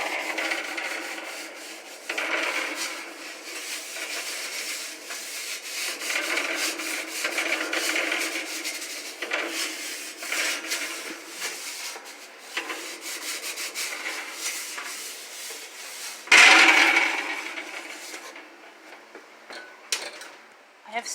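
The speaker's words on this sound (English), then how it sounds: "give the good wiping in and outside of the stove" A cloth rubs and wipes over the inside and outside of a stove and oven in a home kitchen, with steady scrubbing strokes and an occasional knock or clatter.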